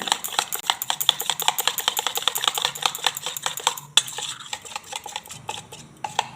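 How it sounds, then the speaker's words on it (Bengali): Flour and water batter whisked briskly in a bowl, a fast steady run of clicking, scraping strokes against the bowl's sides, close and alone with a brief pause near the end. "জলটা ময়দার মধ্যে দিয়ে দেবো ময়দাটা ভালো করে গুলে নেবো"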